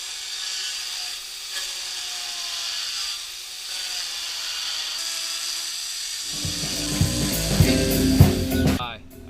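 A chainsaw cuts into a log being roughed out for a hummingbird relief carving, the log bolted to plywood. A quieter engine drone runs for several seconds, then the saw bites into the wood with a loud, gritty, rising roar near the end.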